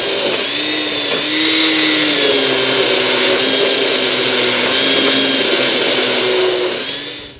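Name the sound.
blender pureeing carrot soup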